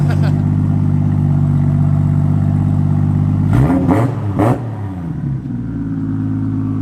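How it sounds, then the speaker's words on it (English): Modified Toyota Supra engine running steadily with a deep low drone, then three sharp revs in quick succession around the middle before settling back to a smooth idle, close and loud. "It's like that traditional Supra sound."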